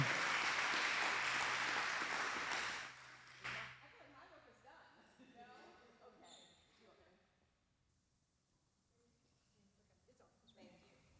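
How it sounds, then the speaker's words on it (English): Applause from a morning audience for distinguished guests at a Women's History Month event, a broad clatter of clapping for about three seconds that drops away into quiet room sounds and faint talk. "Please give a round of applause to all of our distinguished guests this morning"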